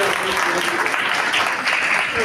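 Sustained, dense applause from a crowd at an academy felicitation ceremony welcomes a student, loud and steady throughout with a voice faintly audible beneath the clapping.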